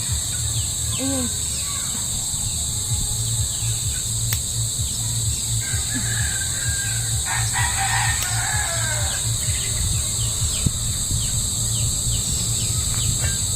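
Roosters crow and hens cluck in the distance over a steady drone of insects and crickets, with faint background voices.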